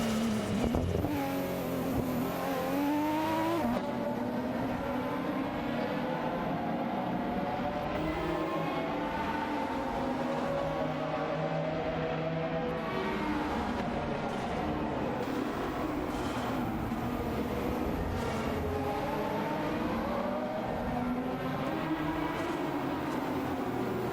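Race cars in a racing video game roar continuously with steady engine drone and shifting pitch sweeps as they battle toward a straightaway, loud and constant throughout with no talk.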